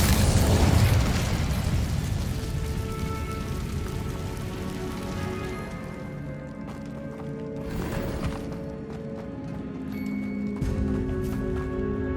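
A fire spell bursts with a crackling, rushing whoosh in the wizarding video game Hogwarts Legacy, then fades into lingering fizzing and a lower ambient hum with faint tonal effects.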